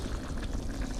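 Water poured into a pot of simmering red beans for South Louisiana red beans and rice, a steady close bubbling, splashing wash lasting about a second with no talk.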